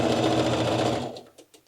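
A Singer Heavy Duty 4452 sewing machine runs at full speed, a loud, dense mechanical whir of rapid stitching that stops abruptly near the end, leaving a few faint clicks.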